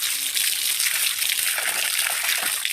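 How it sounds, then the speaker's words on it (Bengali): A mango is rinsed under water pumped from a tube well, a steady gushing splash of running water falling over the fruit, close and continuous throughout. "এই আমটা খাবো, একটু ভালোভাবে ধুয়ে নিচ্ছি আর কি"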